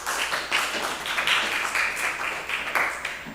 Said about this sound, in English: Please give applause to Pak Farhan.